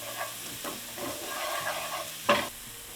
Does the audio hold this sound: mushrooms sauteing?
yes